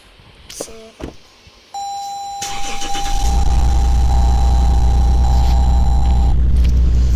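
A Lexus engine starts up in the Roblox game Greenville, a brief electronic tone and beeps giving way to a loud, steady low idle rumble that holds to the end without talk.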